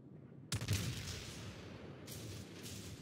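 Warship guns firing in World of Warships, a sudden heavy boom followed by a long rumbling roll and a second, softer report, all without talk.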